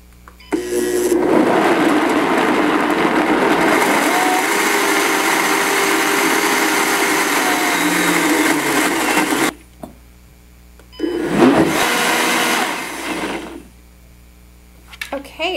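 A food processor whirs loudly and steadily for about nine seconds while blending raw hummus, stops, then gives a second short burst before falling quiet.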